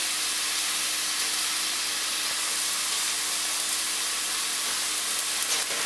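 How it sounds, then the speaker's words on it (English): Flattened chapli kebab meat frying in a hot pan gives a steady, even sizzling hiss that holds unbroken throughout, close and fairly loud, with no talking. "It's got a nice sizzle there."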